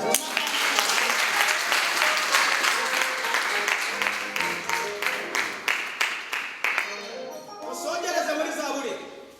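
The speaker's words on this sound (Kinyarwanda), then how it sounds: "dukomere Imana amashyi menshi." A church congregation at a service in Mozambique claps loudly, first as a dense wash of applause and then in sharp rhythmic unison beats, while voices carry over the clapping.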